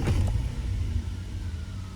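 1994 Ford EF Fairmont wagon running on gas with an almost empty tank: a low, steady engine rumble at idle, with a slightly stronger throttle blip at the start, close and continuous, no talk.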